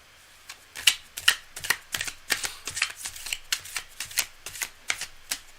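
Tarot cards being shuffled by hand, a run of crisp riffling flicks and slaps in an uneven rhythm, close and fairly clear with no talking.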